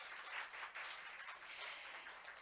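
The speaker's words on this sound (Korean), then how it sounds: "큰 박수 부탁드리겠습니다." Faint, continuous clapping from an audience at a conference session on work-life balance, an even wash of applause with no voices over it.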